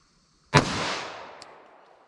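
A single sharp report from a Glock pistol with a 5.3 inch barrel firing a .45 ACP round, loud and close, with a long decaying echo trailing off over more than a second.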